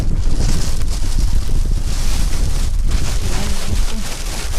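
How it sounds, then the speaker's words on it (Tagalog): Strong outdoor wind buffeting a microphone, a continuous loud low rumble with gusting swells and no pauses throughout. "Malakas kasi ng hangin."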